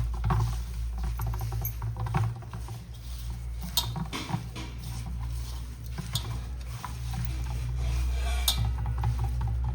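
Hands mix salted bhajani flour in a bowl with steady soft rubbing and patting close by, continuous through the whole stretch over a low background hum.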